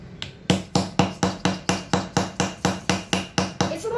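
Rapid, evenly spaced hammer blows strike the hard block of a dinosaur fossil digging kit, about a dozen sharp close knocks in a steady rhythm with no talk.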